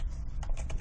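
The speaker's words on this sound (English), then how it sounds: "So you're going to type in dictionary.com" Rapid keystrokes clatter on a computer keyboard while a web address is entered into a browser, a quick irregular run of close, crisp clicks with a low background hum underneath.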